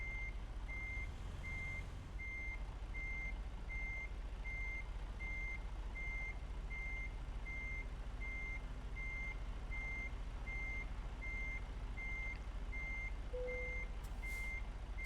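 Steady reversing alarm beeps at a regular pulse from a truck backing up to a loading dock in American Truck Simulator, sounding clearly over a constant engine rumble, with a short hiss near the end.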